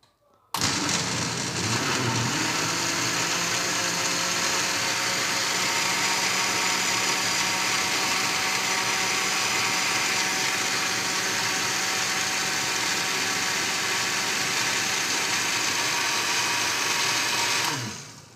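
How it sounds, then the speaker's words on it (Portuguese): A blender whirs loudly while mixing guava juice with sugar and water, switching on abruptly and running at a constant steady drone for about seventeen seconds before cutting off. "Agora é só ligar o liquidificador."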